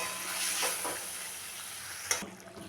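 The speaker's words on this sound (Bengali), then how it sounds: "এখন দিয়ে দেব ভেজে রাখা ডিমটা, দিয়ে আরও কিছুক্ষণ ফুটতে দেব" Bengali green egg curry simmering in a pan after the fried eggs go in, a steady soft sizzle and bubbling hiss running throughout with a brief clink near the end, no voices.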